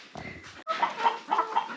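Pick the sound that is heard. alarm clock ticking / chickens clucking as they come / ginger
chickens clucking as they come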